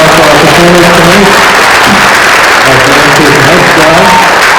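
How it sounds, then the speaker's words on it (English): A middle school concert audience claps for the student performers, a dense, loud wash of applause throughout with a voice speaking over it. "How about one more enthusiastic round of applause for our performers tonight?"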